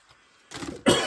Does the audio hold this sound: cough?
yes